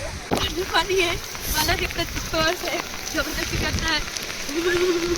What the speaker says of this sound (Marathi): पाऊस येतोय त्याच्यामुळे मी आता चालली वरती